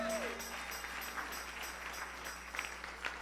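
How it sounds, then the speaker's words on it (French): Church congregation clapping during a sermon, a steady patter of many hands with a few sharper claps, moderately distant, with a tonal sound sliding down at the start. "Clap, my friends."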